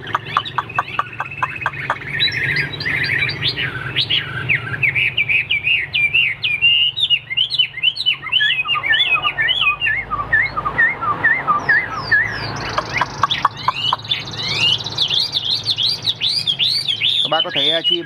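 A caged hwamei songbird sings loudly and close, pouring out rapid varied whistles, trills and repeated chirping phrases almost continuously, with brief low background noise between bursts.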